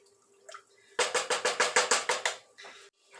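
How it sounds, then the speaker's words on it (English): Water pours into a pot of homemade potato soup in a quick run of rhythmic glugging splashes lasting about a second and a half, close and fairly loud, with quiet moments before and after. "Now I added just a little more water to that."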